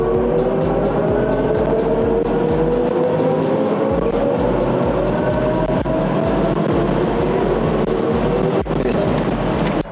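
BMW iX50 electric car accelerating hard from 100 to 200 km/h, a steady loud whine of motor and tyre-road roar with rising pitch filling the whole stretch, recorded from inside the cabin.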